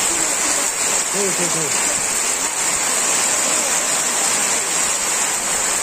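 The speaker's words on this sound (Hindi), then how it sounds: "बारिश इतना जोर जोर से आ रहा है" Heavy rain pours down steadily in a dense, loud hiss outside a home in a jungle setting, with a voice speaking briefly over it early on.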